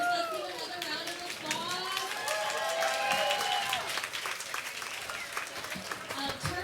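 Audience applause at a justice celebration event, sustained clapping mixed with cheers and children's voices and a few whistles, lively and fairly loud throughout.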